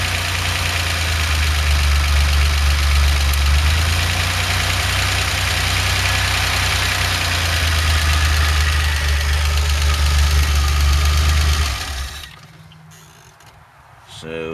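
A DeLorean engine converted to a carburetor with an automatic transmission idles loud and steady, its note stepping up and down as a solenoid kicks in to bump the idle speed, before cutting away to near silence at the end.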